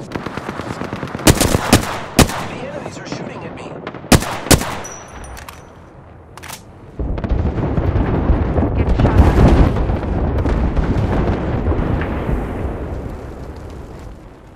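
Apex Legends match with an airstrike: several sharp, loud gunshot cracks and bursts early on, then a long rumbling roar of explosions swelling and rolling on, with a faint voice in the mix.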